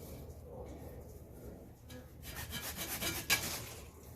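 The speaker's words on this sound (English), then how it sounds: "So I'm going to cut it down to some more manageable sizes" A yucca trunk being sawn into sections, with a woody rubbing, rasping cut that grows louder and busier in the second half, ending in a sharp crack near the end.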